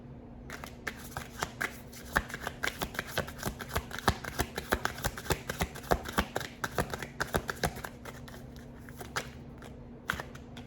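Tarot cards are shuffled and drawn by hand during a reading, giving a steady run of close, crisp slaps, riffles and flicks with no voice over them.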